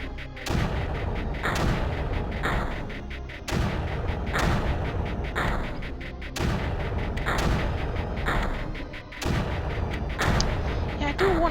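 Mortars in the game Creeper World fire in a repeated series of heavy booming blasts, roughly one every second or two, each with a sharp onset and a rumbling tail, loud and continuous throughout.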